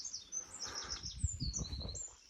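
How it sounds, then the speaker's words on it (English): Birds sing outdoors on a cold, windy spring morning, with high chirps and warbling phrases throughout and a low rumble of wind or movement underneath in the second half. "we've got some bird song"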